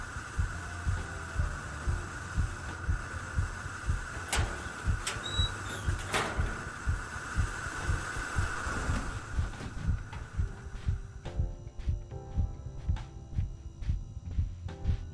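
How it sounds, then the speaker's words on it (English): A steady, pounding heartbeat throbs under a low hum in the Inside The Backrooms horror video game, with a few sharp clanks and sliding noises cutting in partway through. "I hear like the heartbeat's like pounding, but I don't see it."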